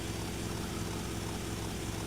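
A helicopter in Grand Theft Auto Vice City gives a steady, continuous rotor and engine drone with a rapid chopping pulse, loud and unbroken with no voices.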